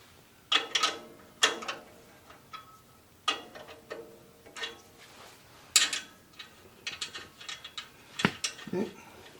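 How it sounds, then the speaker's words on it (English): A wrench loosening a jam nut on a Woodland Mills bandsaw mill, a series of short metallic ratcheting clicks in uneven bursts, close and clear with no talking. "I'm going to loosen up my jam nut."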